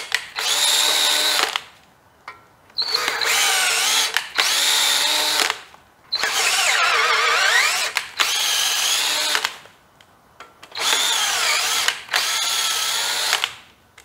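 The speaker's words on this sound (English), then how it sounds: "We'll clean these head bolt threads real quick." A power tool cleans the head bolt threads in a 327 engine block. The drill whirs loudly in repeated bursts of a second or two, separated by brief pauses.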